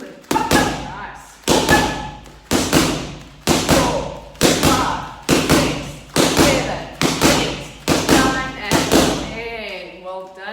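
Gloved jab and cross punches smack into boxing focus pads in a steady rhythm, about ten sharp thuds in a row, each a crisp pop with a short decay, with a voice briefly talking near the end.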